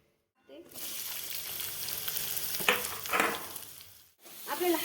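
Cumin seeds hit hot oil in a kadhai, bursting into a loud steady sizzle that crackles and spits for several seconds, then cut off briefly before the frying hiss resumes.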